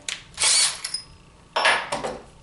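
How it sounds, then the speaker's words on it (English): Two loud bursts of a power drill biting into material, close up, separated by a short pause. "I got to finish drilling that one"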